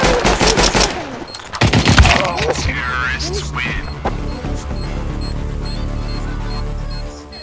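Bursts of automatic rifle fire crack out in quick rapid volleys in a Counter-Strike: Global Offensive match, loud and close, mixed with excited voices talking over the action before the shooting gives way to a steadier game hum.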